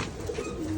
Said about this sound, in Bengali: আমাদের অনেক কবুতর আছে